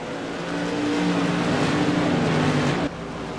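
Modified race cars at Oxford Plains Speedway drone past, their engines a steady, loud, tonal roar that swells and then drops off abruptly as the field moves down the backstretch.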